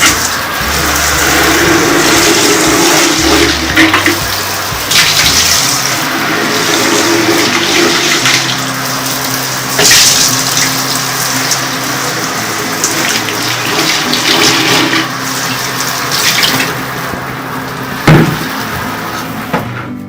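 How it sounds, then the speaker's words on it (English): Water gushes and splashes loudly to rinse out a cleaned stain, a close, continuous rushing flow with a low churning undertone and occasional surges, no voices over it. "Rinse it out a little bit."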